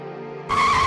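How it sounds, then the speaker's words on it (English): Tires on a white Isuzu delivery truck screech sharply against pavement as it skids. The screech cuts in suddenly after a tonal lead-in and stays loud and sustained to the end. "The tires screech violently against the pavement, leaving thick black streaks of burning rubber"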